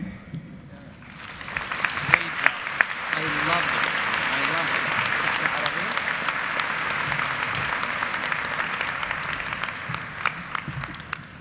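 Convocation audience breaks into applause after a second of quiet, swelling into a full, sustained wash of clapping with a voice briefly heard early on.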